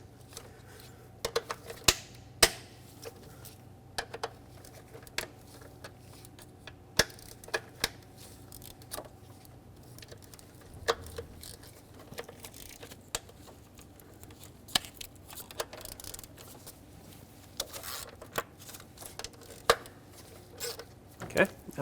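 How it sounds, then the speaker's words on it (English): An 8mm socket ratchet works the intake bolts loose on a Ford Flex engine, producing sharp metallic clicks and snaps scattered irregularly over a low background hum, some louder than others. "I'm going to break them free first using an 8mm socket"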